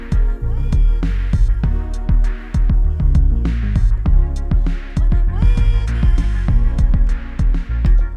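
A loud, punchy beat plays as part A on an MPC One, with steady kick and snare hits under layered bass and chopped sample stabs in a tight repeating groove, running continuously throughout.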